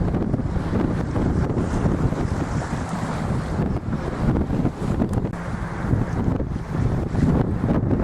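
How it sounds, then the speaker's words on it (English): Strong wind and rolling waves on a sailboat heading for Dover Harbour in a freshening breeze, with a steady, loud rush of wind buffeting the microphone and water surging around the hull throughout. "Wind's getting a bit fresher, waves are getting bigger, and we're surfing down them quicker"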